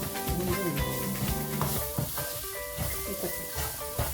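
Onion frying in a pan on low gas, a continuous close sizzle with stirring scrapes and clinks of a spoon against the pan throughout.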